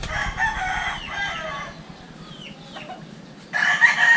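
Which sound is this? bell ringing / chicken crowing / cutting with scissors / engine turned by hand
chicken crowing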